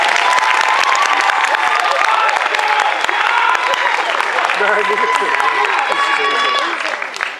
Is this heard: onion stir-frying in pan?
no